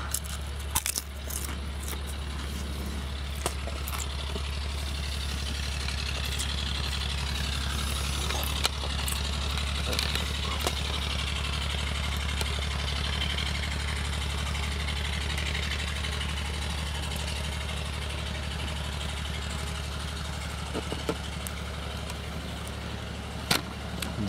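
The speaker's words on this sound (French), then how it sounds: "Voisin qui remonte son tracteur." A steady low engine rumble idles on in the background, fairly distant and even, with occasional faint clicks and knocks.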